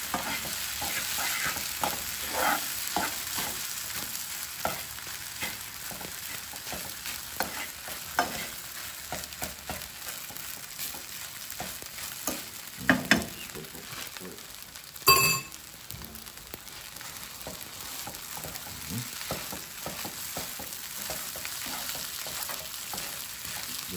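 Egg stir-fried with teriyaki chicken and broccoli in a hot pan, a continuous loud sizzle with repeated scraping and turning strokes throughout, plus a sharp metallic clink partway through.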